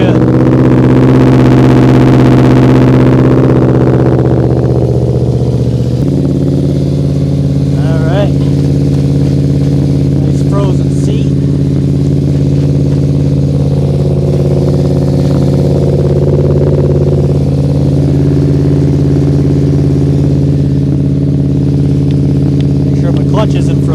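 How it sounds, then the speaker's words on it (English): A Polaris Sportsman 400 ATV engine, running poorly after mudding, idles steadily and loudly while warming up, a continuous close rumble with a slight shift in pitch early on. "Let that warm up for a minute. That V4 sure does sound good."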